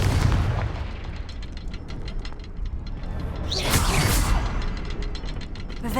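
A Confringo fire-blast spell cast in the Hogwarts Legacy video game: a sharp, loud explosive burst with a crackling whoosh midway, standing out over a constant rumbling, clattering game soundscape.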